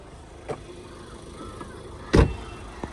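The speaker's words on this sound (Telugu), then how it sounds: "Auto folded mirrors with indicators వస్తాయి సార్." The auto-folding side mirrors of a 2018 Ford EcoSport Titanium diesel fold and unfold, producing two short electric motor whirs, the second louder and closer, over a low background hum.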